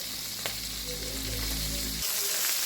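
Alumahan mackerel frying in a pan, a loud, continuous close sizzle with a low hum that stops partway while the crackle carries on.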